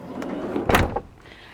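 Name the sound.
camper van door being unlocked and opened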